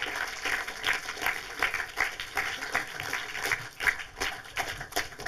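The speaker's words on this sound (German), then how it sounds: "begrüßen Sie nochmal mit großem Applaus" Studio audience applauding for guests at a radio and television talk event, a steady wash of clapping with a pulsing rhythm, moderately distant and sustained throughout.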